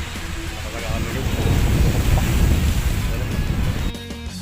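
Ocean waves wash against the Almina breakwater in Abu Dhabi, a rough surging roar that swells and fades, mixed with gusty wind noise on the microphone.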